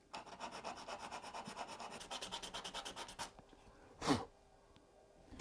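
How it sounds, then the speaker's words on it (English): A sanding block rubs back and forth across a scratch-built wooden tunnel portal for a model railroad, a fast, even rasping rhythm up close, then a pause and one brief louder scrape. "I got me a sanding block here"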